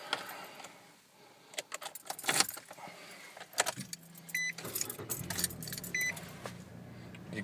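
Keys jangling inside a car followed by the car being started: scattered metallic rattles and clicks, a couple of electronic beeps, then the engine catching and settling into a low steady idle hum.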